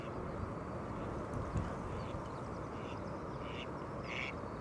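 A mallard duck on water gives a few short quacks late on, faint against steady wind and water noise outdoors.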